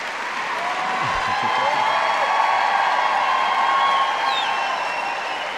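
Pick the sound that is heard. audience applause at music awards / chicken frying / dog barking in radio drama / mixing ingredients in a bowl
audience applause at music awards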